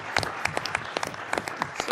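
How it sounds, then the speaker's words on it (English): Brief burst of clapping and applause from a town hall meeting crowd, dense and lively, lasting a couple of seconds. "Let's give them a round of applause."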